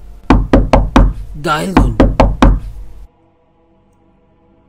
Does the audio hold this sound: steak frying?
no